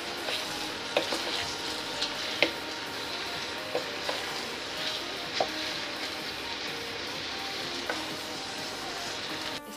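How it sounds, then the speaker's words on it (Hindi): Sabudana tapioca pearls fry in a pan with a continuous close sizzle, while a spoon stirs them and scrapes the pan in light, irregular clinks throughout. "अब इसके अंदर साबूदाना डाल देंगे। इसको मिक्स कर देंगे।"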